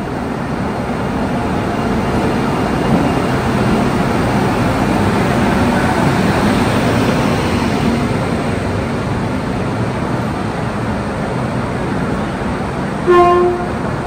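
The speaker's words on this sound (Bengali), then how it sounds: "ট্রেন ঢুকছে সবে পদাতিক এক্সপ্রেস" The Padatik Express pulls into a station platform with a steady loud rumble of rolling wheels and wagons, and a brief horn toot sounds near the end.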